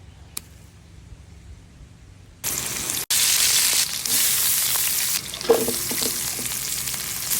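Vegetables for pinakbet, such as eggplant and bitter gourd, hit a hot pan and burst into a loud, steady sizzle after a quiet start, with stirring clatter close by.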